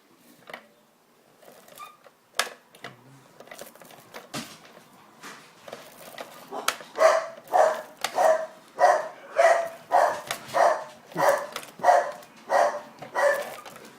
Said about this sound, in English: the dog's going mad